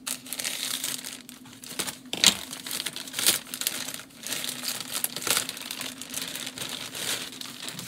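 A plastic poly mailer bag crinkles and crackles close up as scissors cut through it, with irregular rustling bursts continuing throughout.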